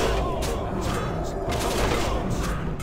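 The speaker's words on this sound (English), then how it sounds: "Explosive rocket." Explosive rocket blast in World of Warcraft, a dense run of booming, crackling bursts filling the whole moment at steady high loudness, with voices faintly mixed in.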